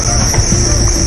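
Farmed crickets chirp in a dense, loud, continuous chorus with a high steady trill, close and unbroken throughout with no voices.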